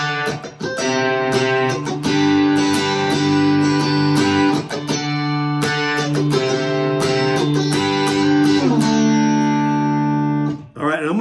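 A guitar plays the intro of a song in a beginner lesson, with bright, ringing picked chords and melody notes that carry on steadily and close up before ending abruptly.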